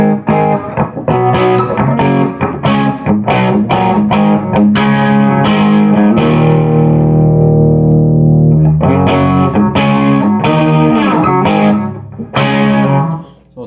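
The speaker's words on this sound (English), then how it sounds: "it sounds like I got a pretty good bass tone on the Marshall" Distorted electric guitar played loud through a Marshall tube amp, choppy riffing with a sustained held note in the middle, then more riffing.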